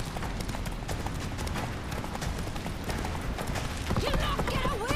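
Roach, the horse in The Witcher 3, gallops with rapid rhythmic hoofbeats, close and steady, under game music and effects, with a short rising whistle-like tone near the end.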